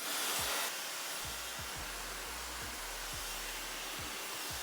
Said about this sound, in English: I'm gonna grab my Dyson blow dryer and kind of lock this in